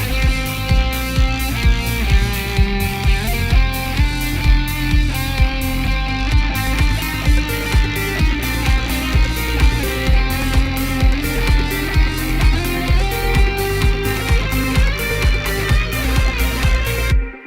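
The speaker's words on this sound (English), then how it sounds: "My own recording of lead guitar." Self-recorded lead guitar plays over a full, dense electronic song arrangement with a steady pulsing beat and bass, continuous and loud throughout, with no voices.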